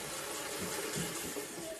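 Fresh water poured into a container holding live crayfish caught from a silty river, a steady, close rushing splash that runs unbroken and fairly loud throughout.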